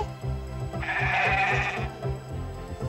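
Sheep bleat once, a clear wavering cry near the middle, over a steady rhythmic musical backing from an animated film scene.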